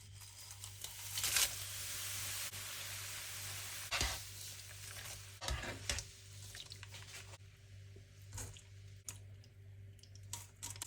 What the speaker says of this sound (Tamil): அதை இப்போ பொரிச்சு எடுக்க போகிறேன்.